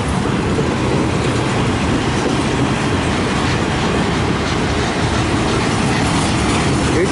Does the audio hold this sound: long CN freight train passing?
yes